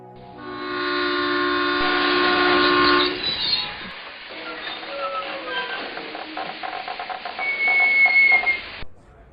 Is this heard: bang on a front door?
no